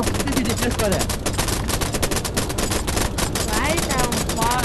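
Rapid gunfire in a fan-made Chu Chu Charles horror video game, dense and continuous loud bursts with players talking over the shots.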